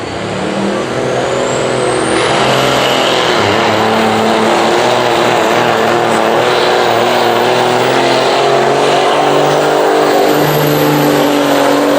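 Engine of a 1982 Freightliner semi truck at a truck pull, a loud continuous diesel roar that holds steady and builds slightly throughout, with no talk over it.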